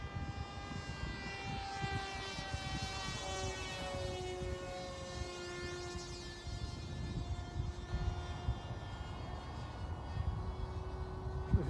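A Dart XL flying-wing RC plane makes a flyby, its high motor and propeller whine sliding steadily down in pitch as it passes, with a continuous rumble of wind noise underneath and no speech.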